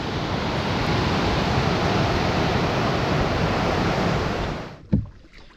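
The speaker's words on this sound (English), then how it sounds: "This is the main chunk of Crater Rapids." Whitewater of Crater Rapids on the Bloodvein River in the Manitoba wilderness, a close, loud, unbroken rushing roar that cuts off abruptly near the end, followed by a single thump.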